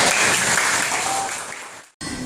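A classroom of students applauding, a dense wash of clapping that fades out and stops abruptly, followed by a brief quieter room tone.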